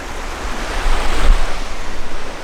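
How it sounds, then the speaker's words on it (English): Rushing river rapids at a campsite near Aberfeldy, a steady broadband roar of running water with slight surges, close and continuous with a little wind on the microphone and no talking. "You've got the rapids here."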